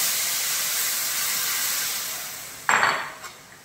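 Fried soybeans crackle with a steady hiss in a hot pan, then a sudden loud burst of steaming sizzle erupts as water is poured in near the end, fading in spurts.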